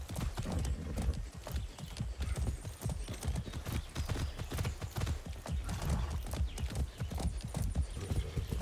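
Horse galloping in Far Cry 6, a fast, steady clip-clop of hooves running continuously and close up, with a brief whinny mixed in and no talking.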